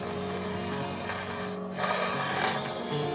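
Steady rasping file strokes smoothing guitar fret wire ends, a continuous close scraping with slight swells in intensity and no talking.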